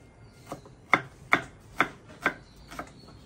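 A knife cuts food on a board with about six sharp, evenly spaced chops, heard close and clear with no talking.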